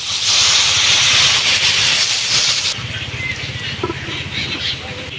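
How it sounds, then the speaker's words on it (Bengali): Water goes into a hot pan during village cooking of a traditional Bengali recipe, setting off a loud, steady hiss of sizzling steam that drops sharply partway through and then settles into a quieter bubbling sizzle. "এবারে জল দিয়ে দিচ্ছি।"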